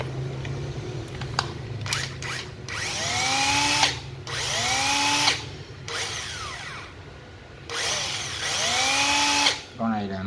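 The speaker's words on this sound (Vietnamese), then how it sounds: "Con này là cái bấm vít" A cordless 9.6V screwdriver, tested with a faulty speed control, runs in several short bursts that rise and fall in pitch, with pauses between them and speech in the background.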